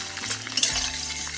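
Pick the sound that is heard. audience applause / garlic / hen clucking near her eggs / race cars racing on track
garlic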